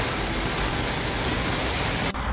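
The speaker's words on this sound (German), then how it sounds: "Jede Menge Regen." Heavy August rain pours steadily onto a garden, a dense, loud, even hiss of drops on surfaces with no voices, cutting off abruptly near the end.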